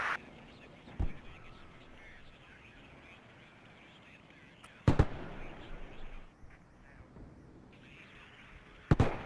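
Booming artillery shells in the Cold War strategy game WARNO, three sharp blasts spaced a few seconds apart over a low steady rumble, with faint chirps between them.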